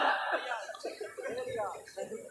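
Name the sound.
imitated coughing of an old father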